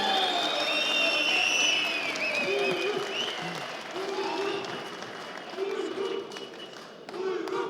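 A crowd cheers and applauds with whistles and shouts at a Konya fair auction after an Erkunt tractor sells for 1,600,000 lira, loud and lively, while a voice speaks Turkish over the noise in short bursts.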